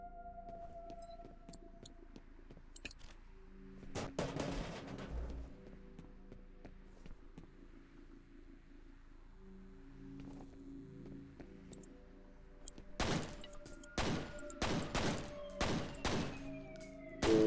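Pistol gunshots in F.E.A.R. sound as a rapid string of sharp, loud cracks toward the end, after quieter ambient game sounds and a muffled earlier burst.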